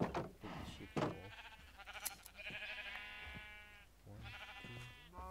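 Minecraft sheep bleat repeatedly, drawn-out wavering cries at close range, heard alongside someone talking over the game while shearing wool.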